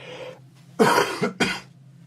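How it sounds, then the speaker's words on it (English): Two or three sharp coughs in quick succession over a low background hum, close and fairly loud. "sometimes I might sniff and cough"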